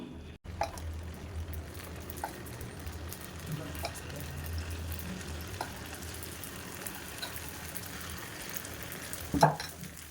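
Sweet paniyaram batter frying in a mixture of ghee and oil in the wells of a paniyaram pan: a quiet, steady sizzle with faint occasional taps, louder clatter near the end, no talk.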